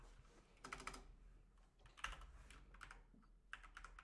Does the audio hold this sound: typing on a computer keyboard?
yes